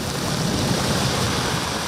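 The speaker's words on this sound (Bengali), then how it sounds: "নগরীতে ভোর থেকে হঠাৎ দমকা বাতাসের সাথে শুরু হয় ভারী বৃষ্টি।" Heavy rain driven by gusty wind from Cyclone Remal pours over a city, a dense, steady roar of water with no pauses across the short stretch.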